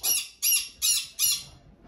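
Four sharp, loud squawks from a green-cheeked conure, evenly spaced in quick succession, close and harsh with no other sound around them.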